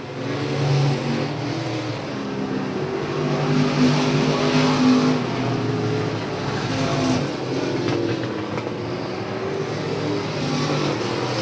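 Pack of limited modified race cars running nose to tail down the backstretch at South Texas Speedway, a continuous loud roar of engines swelling and fading as they pass, with no speech over it.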